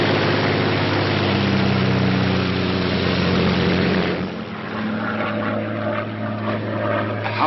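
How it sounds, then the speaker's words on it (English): A Royal Air Force propeller airplane in flight, its engine drone loud and steady, thinning slightly partway through, with film music faintly under it. "a Royal Air Force plane is waiting for us at a secret landing place"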